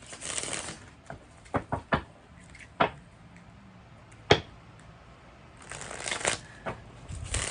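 Tarot cards are shuffled close by in quick riffling bursts at the start and end, with scattered single card snaps and taps in between, and a faint voice can be heard in the background.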